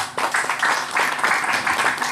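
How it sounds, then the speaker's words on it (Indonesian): Short burst of audience clapping at an arts and culture gathering, dense and fairly loud, pulsing unevenly for a couple of seconds with no talk over it. "saya kepingin tepuk tangannya untuk khususnya Pak Agus Kasisesos Kecamatan"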